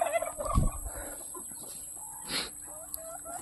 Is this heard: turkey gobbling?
yes